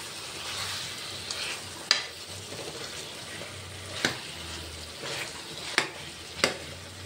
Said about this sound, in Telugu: ఒకసారి కలిపేసుకుందాము.